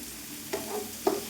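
Onion, green chillies and curry leaves sauté in a pan with salt, a soft steady sizzle broken by two brief stirring scrapes, close and fairly quiet.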